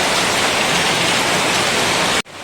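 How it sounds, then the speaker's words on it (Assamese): Heavy rain falls outside a home in a dense, steady hiss that fills the air loud and close, then cuts off abruptly near the end, leaving a faint hush. "এয়া বতৰ চাওক কেনেকুৱা বৰষুণ"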